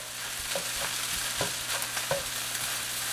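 Crappie fried rice being stirred in a hot pan at a fishing camp: a constant sizzle of frying with scraping, clinking strokes of a utensil landing several times in a loose rhythm, close up and with no talk.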